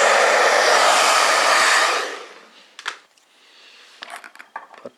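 A heat gun blows a steady, loud, airy rush while heating the back of a Samsung Xcover 3 phone to soften its glue. It cuts off after two seconds, followed by faint clicks and handling noises.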